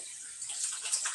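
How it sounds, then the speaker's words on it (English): Tap water running over hands being washed in a kitchen, a brief, soft, steady hiss of flowing water with light splashing. "So I just wash my hands."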